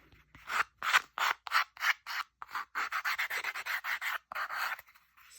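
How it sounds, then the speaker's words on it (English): Rhythmic rasping of a small sanding tool scrubbing paper, about a dozen quick strokes in bursts, close and fairly quiet, no voices. "Let me get my little sanding thingy here"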